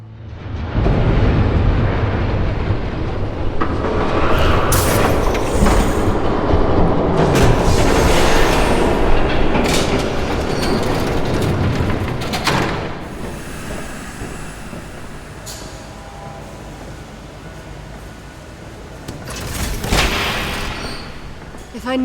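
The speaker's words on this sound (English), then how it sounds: "There's a train coming." A train rumbles past in a Batman video game, a loud, continuous low roar with clattering and rushing bursts that swells and fades over about twenty seconds, with game voices speaking over it.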